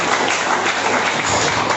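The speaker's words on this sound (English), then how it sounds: "Can we clap for her?" Applause from an audience at a school event, a dense, steady wash of many hands clapping, loud and continuous.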